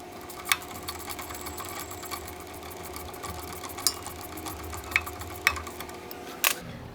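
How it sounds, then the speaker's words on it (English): Exhaust bolt being tightened with a half-inch wrench while fitting a Big D exhaust, a steady mechanical drone under a handful of sharp metallic ratchet clicks spread unevenly across the stretch. "With a 1/2 inch wrench, we're going to take that torque it down."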